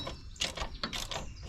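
A ratchet clicks as bolts are tightened on the axle of a Hammerhead MudHead 208R ATV, a few quick close bursts of rapid clicking with no talk.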